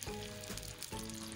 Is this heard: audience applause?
no